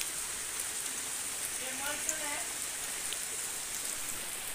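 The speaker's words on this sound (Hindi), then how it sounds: "बारिश बहुत तेज़ है।" Heavy rain pours steadily in Bihar, a dense even hiss that holds throughout, with a faint voice briefly audible beneath it.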